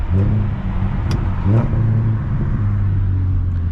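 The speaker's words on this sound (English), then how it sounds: "I hear some burbles." A BMW 335is single-turbo car engine rumbles loudly and close at night, with uneven low burbling pops from the exhaust as it idles and revs slightly.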